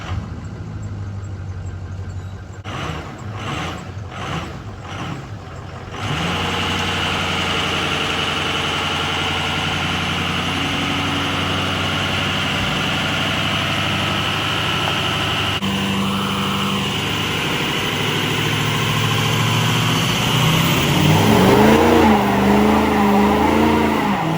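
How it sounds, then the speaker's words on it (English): Kaylee's truck, near an F350 being fitted with a lift, revs hard through a burnout, the engine roaring loud and steady with a sharper rise and wavering pitch toward the end, after brief broken bursts at the start. "Kaylee's truck did a great burnout."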